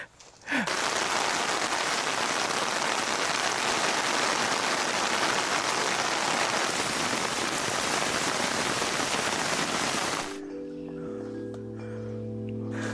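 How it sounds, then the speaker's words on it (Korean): Rain falls at a campsite as a steady, dense hiss of drops on surfaces, close and loud for about ten seconds before cutting off. "비가 내리는 것 같아"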